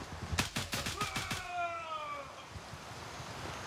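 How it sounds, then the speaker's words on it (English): Gunfire in the Gray Zone Warfare shooter, a quick burst of about eight sharp shots in rapid rhythm fired at the floor, followed by a ringing tail and quiet wind-like ambience. "Dude was straight up just shooting the floor."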